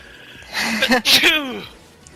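A sneeze that builds with a short inhaled gasp, then bursts loudly and close, followed by a brief trailing exhale, with people nearby talking.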